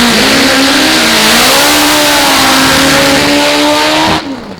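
Top Fuel drag racing motorcycles at a 2002 AMA Prostar drag bike event scream past at full throttle, a very loud, sustained high-revving engine roar with rising tones that cuts off abruptly near the end.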